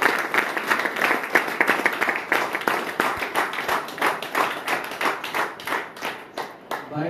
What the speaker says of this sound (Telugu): గ్రేట్ అప్లైన్ కు ఒకసారి క్లాప్స్ చేయొచ్చు